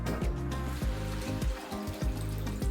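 Filtered water pours into a brown sugar mixture for a Korean galbi short-rib marinade, a steady liquid stream that runs for a few seconds with small splashing surges.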